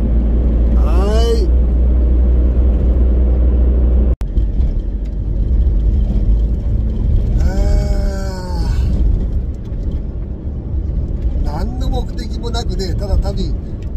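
Car driving along a mountain road toward Beppu in Oita Prefecture, a steady low engine and road rumble inside the cabin, with someone talking over it at intervals.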